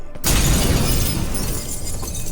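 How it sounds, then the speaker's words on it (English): A mirror shatters in The Witcher 3: Wild Hunt, Hearts of Stone expansion, a sudden loud crash of breaking glass followed by a sustained bright tinkling spray that lingers for about two seconds. "Gotta be some mirror here you won't shatter."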